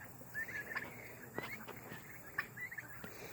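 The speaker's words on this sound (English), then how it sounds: "Today's the first day the turkeys get to roam." Turkeys gobble in repeated rattling bursts, fairly faint and a little distant, over a steady outdoor background hum.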